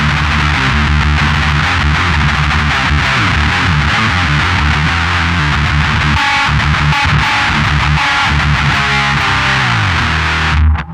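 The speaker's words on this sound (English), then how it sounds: "This gives distortion which stresses the treble and bass range, suitable for heavy metal" An electric guitar plays through the metal distortion setting of a Zoom Fire 7010 amp and effects processor, giving loud, thick, heavily saturated chords and riffs that ring continuously and cut off at the end.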